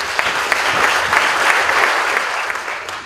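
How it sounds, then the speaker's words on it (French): A crowd at the inauguration of a shop workshop applauds, a dense, even wash of clapping held for about three seconds with no talk. "On applaudit Alphonse Soukaz."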